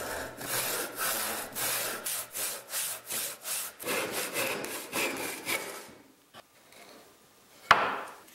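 A handsaw cuts through wood for a puzzle piece in a quick rhythm of rasping strokes, close and clear, then stops and leaves quiet handling noises and a single knock.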